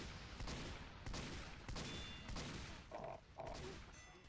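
Rapid bursts of gunfire from Team Fortress 2 fill the stretch, repeated volleys in quick succession at steady loudness with brief gaps between.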